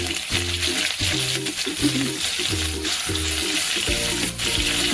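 Cumin, grated garlic and curry leaves sizzle in hot oil for a stuffed brinjal dish, a loud, steady crackling hiss with regular low clatters from the pan beneath it.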